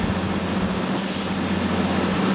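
A homemade fan mister sprays water mist as a steady, loud broadband hiss close by, over a constant low fan hum, with a brighter spray surge near the middle.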